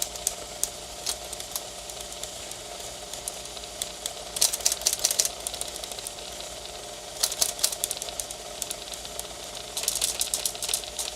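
Keys strike on a 1935 IBM Model 01 typewriter with a missing key spring, tapping out in scattered bursts of sharp clacks over a faint steady background hum.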